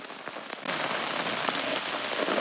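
Rain pours onto a garage roof and its guarded gutters in a rainstorm, a close, dense hiss of drops that grows heavier after the first half second, with scattered louder drips standing out.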